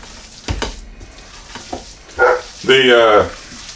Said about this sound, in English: my shepherd doesn't like me talking about making food, so he's gonna continue to bark out there and want in